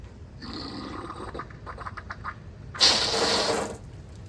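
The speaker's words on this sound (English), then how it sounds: "see if water comes squirting out" Water sprays from a newly plumbed outdoor shower, first as faint sputters, then as a sudden loud hissing gush near the end.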